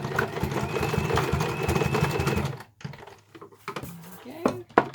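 A sewing machine stitches small crossway stitches on a reversible fabric carry bag, a quick rhythmic mechanical chatter for a couple of seconds that then stops, leaving scattered handling clicks and rustles.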